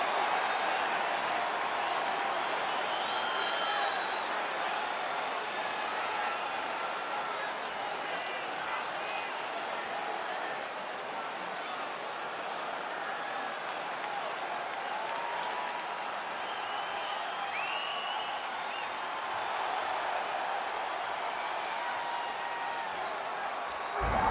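A capacity arena crowd in the UFC 5 video game, a sustained wash of cheering and applause lasting throughout at an even, moderate level, with a commentator talking over it.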